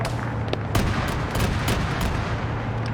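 Sharp repeated bursts of 30 mm autocannon fire in a military video game, coming from some distance away at about 500 meters, the shots landing irregularly over a steady low rumble.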